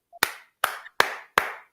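A single person claps his own hands in a morning studio show, five sharp, close, evenly spaced claps over under two seconds, each with a short room tail and silence between.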